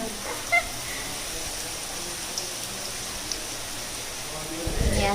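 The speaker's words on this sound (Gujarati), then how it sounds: "ચાલુ જ છે વરસાદ" Heavy monsoon rain hisses down evenly in a village, a constant wash of drops with no pauses and a faint thump near the end.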